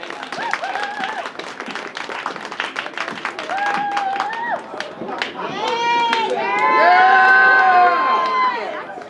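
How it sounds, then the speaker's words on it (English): An audience at an erotic poetry and music festival applauds and cheers for a performer, dense clapping mixed with whoops and shouted voices that swell louder toward the end. "Big round of applause like this"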